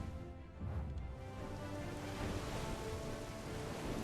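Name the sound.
rain on the ocean in video game Black Desert Online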